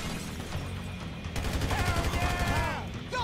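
Rapid gunfire from a weapon in Grand Theft Auto 5, bursts of shots piling up loudly over a dense game soundscape of effects and background noise.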